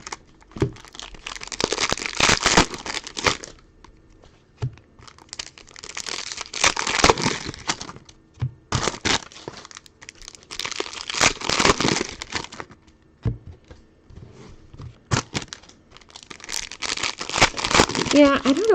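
Foil wrappers of Prizm baseball trading card packs crinkle and tear open in repeated loud bursts separated by short pauses, close to the microphone, with a voice speaking faintly at times.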